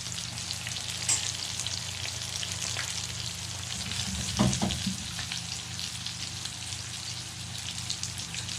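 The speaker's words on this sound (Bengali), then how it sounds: "কুমড়া ফুল ভাজা হচ্ছে" Pumpkin flowers dipped in egg fry in hot oil with a steady, close sizzle that runs the whole time, broken by a brief louder crackle and stir near the middle.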